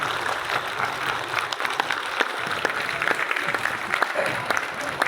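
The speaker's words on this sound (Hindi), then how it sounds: "अपनी जगह पर तालियां बजा दीजिएगा" Seminar attendees stand and clap at their seats, a full steady round of many hands with sharper individual claps poking through, lasting the whole stretch without talk.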